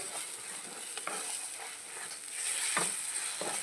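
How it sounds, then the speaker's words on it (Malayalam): An egg fries in a pan with a steady bright sizzle, and a few soft stirring scrapes and taps break through it, close and unvoiced. "പൊരിച്ചെടുക്കട്ടെ കേട്ടോ"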